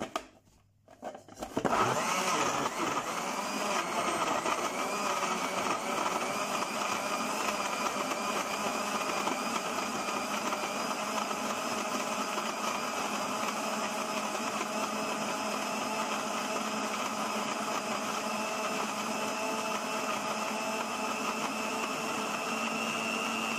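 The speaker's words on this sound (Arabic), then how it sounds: "خصني دابا نضرب داكشي في الخلاط" An electric blender kicks on after a brief pause and runs steadily, whirring loudly as it blends strawberries, dried apricots and honey into a drink, a continuous motor whine with no talk.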